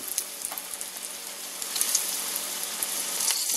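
Green tomato slices frying in a skillet give off a steady, moderately loud sizzle that swells slightly toward the end, with no voices over it.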